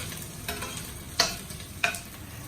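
Red onion and ginger fry in a pan for Filipino pork dishes, giving a soft steady sizzle with two sharp scraping stirs of a utensil against the pan.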